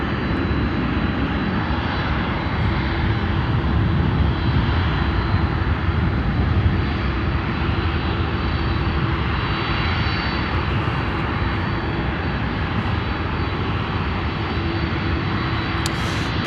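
A Douglas DC-6 propeller airliner at an airport roars with a steady, loud engine drone that holds for the whole stretch, a faint tonal hum running beneath the broadband rumble.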